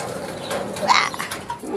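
Pigeons coo softly nearby, a short low throaty call with a brief flutter of movement around it.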